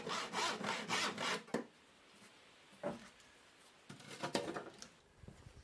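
A handsaw cuts through recycled pallet plywood in quick rhythmic rasping strokes, close and fairly quiet, then pauses before a few shorter bursts of sawing.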